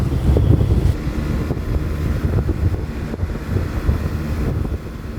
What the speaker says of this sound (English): There was a pretty stiff breeze in the Strait of Juan de Fuca